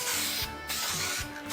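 Candy red spray paint hisses steadily from an aerosol can onto a car, close and fairly quiet, with short bursts and brief pauses between passes.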